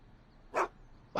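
A dog in a video game gives two short, sharp barks about half a second apart, over a low, quiet background hum.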